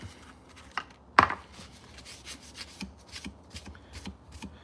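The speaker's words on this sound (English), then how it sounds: "you're just like pulling the sandpaper towards you" A sheet of 600 grit sandpaper rasps in short, quiet hand-pulled strokes, a series of soft scratchy rubs with one sharper scrape near the start, no talk.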